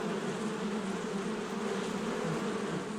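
A dense, steady hum of many bees buzzing together inside a hive, continuous and fairly close, with no voices.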